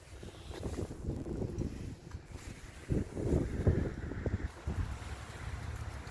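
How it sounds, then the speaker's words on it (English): Gusty wind buffets a microphone outdoors on a very windy day during a Nissan Pathfinder air filter change, a loud low rumble that swells and drops in uneven bursts, with no speech. "it's a very windy day today."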